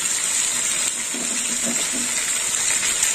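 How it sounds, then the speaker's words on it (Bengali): Hot water pours steadily into a pan of meat curry, a continuous close gush with a faint hiss and no talking over it. "এবার দিয়ে দেবো গরম জল"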